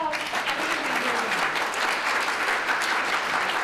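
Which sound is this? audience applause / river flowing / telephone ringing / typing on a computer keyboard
audience applause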